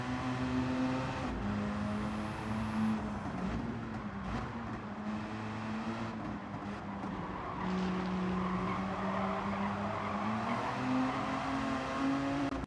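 A tuned Mazda RX-7 rotary engine in Gran Turismo 7 drones and revs steadily, its pitch rising and falling, with occasional tire squeal, heard alone with no talking.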